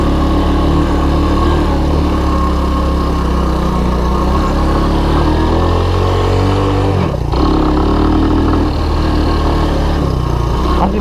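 A Honda ATC185S three-wheeler runs its engine with the choke on during a ride, a loud steady close-up drone with a brief dip partway through before the revs pick back up.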